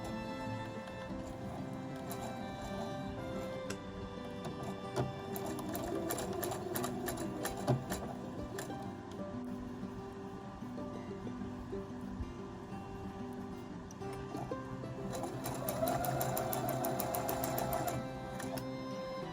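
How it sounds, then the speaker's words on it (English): A sewing machine stitches summer clothes being upcycled, a rapid steady mechanical rattle running close and continuous, with faster bursts in the middle and near the end. "I really like the way this machine stitches."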